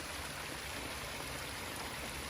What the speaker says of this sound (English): I have a waterfall right underneath a giant pine tree